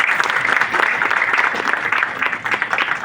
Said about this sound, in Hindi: ईश्वर अंकल के लिए जोरदार ताली बजाइए।